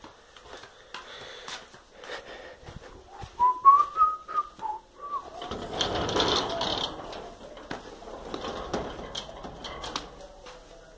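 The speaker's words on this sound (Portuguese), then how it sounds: "Os pássaros do Elias, os cantador" Pet songbirds whistle and sing at a new house, a clear melodic phrase standing out among softer chirps, with background rustling and faint voices.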